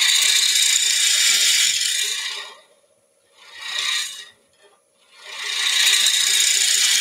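A drill bit bores into a wooden cheese platter, giving two long, steady rasping bursts of cutting with a shorter burst between them, close and fairly loud, with no talk.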